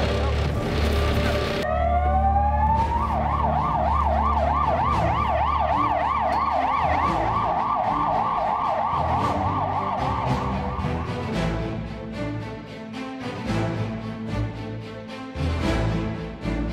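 Fire engine sirens, from a Volvo and an Iveco fire truck in Romania, wail in loud, rising and falling cycles as the crews depart, then fade into a jumble of engine and street noise.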